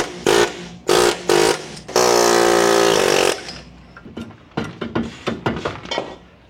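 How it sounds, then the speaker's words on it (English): Pneumatic air hammer pounding on a car axle to knock it loose, loud close bursts of rapid hammering, several short blasts and then one long sustained run, followed by scattered metallic knocks. "Yep, air hammer it is."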